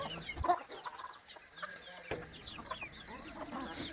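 A farm-raised desi rooster clucks in short, irregular bursts at close range, with other fowl calling softly in the background and no talk.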